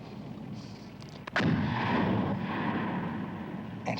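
Artillery shell detonating in the hills of Afghanistan, one sudden sharp blast followed by a long rumbling roll of low noise and distant echo, heard over steady outdoor background hiss.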